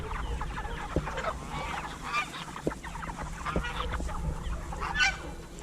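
Pasture-raised chickens, mostly roosters, squawk and honk in a restless flock, with overlapping calls and occasional thumps nearby, moderately faint.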